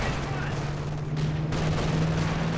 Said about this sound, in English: Rocket artillery.